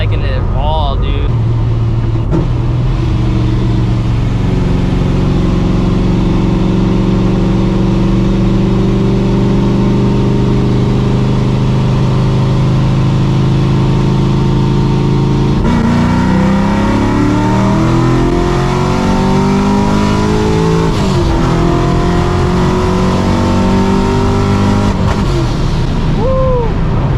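A procharged 600hp New Edge Mustang GT engine revving loudly through hard pulls, its pitch climbing and dropping in sustained sweeps close to the cabin.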